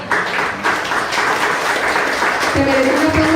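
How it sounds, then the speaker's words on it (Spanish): A church congregation breaks into sustained, dense applause after a sermon point, steady and loud for several seconds, with faint voices mixed in. "Y yo creo que eso se merece un aplauso."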